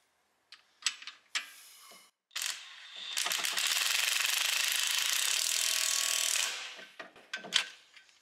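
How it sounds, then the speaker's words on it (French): Ratchet wrench tightening an 18 mm screw on the brake and suspension of a diesel Golf, a few sharp clicks followed by a long steady burst of rapid ratcheting, close and fairly loud, ending in scattered taps. "On va quand même serrer cette vis."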